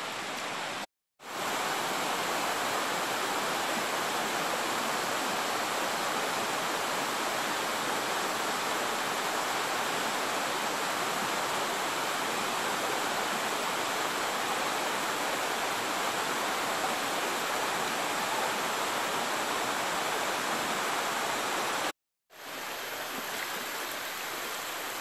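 Tembalang waterfall during the rainy season pours with a constant, broad rushing roar of falling water, steady and unbroken for the whole stretch apart from two brief silent gaps near the start and end.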